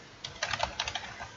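Someone types on a computer keyboard, a quiet run of about a dozen light, uneven key clicks in a short burst.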